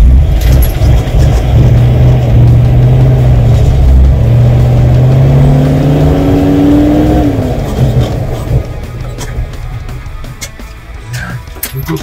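A GAZ-66 truck engine labouring in first gear, a loud, close, continuous mechanical drone whose pitch climbs as the revs build, then eases off slightly toward the end.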